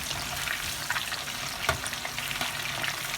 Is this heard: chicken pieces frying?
yes